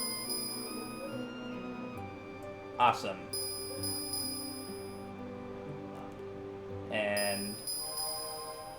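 In the Dragon Warrior VII video game, the Terror Bell placed on a lake altar rings out with bright chiming tones over game music, while a player's voice talks over it.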